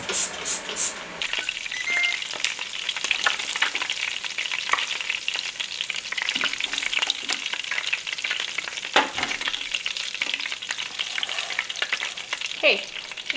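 Bacon sizzling in a pan with a dense, continuous crackle and spitting, punctuated by occasional sharper pops and clicks, close and loud throughout.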